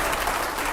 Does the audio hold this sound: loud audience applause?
yes